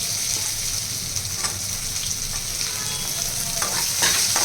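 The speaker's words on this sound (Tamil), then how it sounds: "அப்புறம் வெங்காயம் போட்டுங்க." Onions, including small shallots, fry in a pan for a kurma with a loud, continuous sizzle and crackle, while occasional stirring scrapes cut through the hiss.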